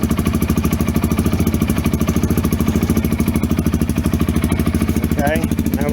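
A Coleman 250UTV utility vehicle's engine runs steadily at a rumbling idle, with a fast, even pulse that continues throughout, close by and loud, with a brief higher whine near the end.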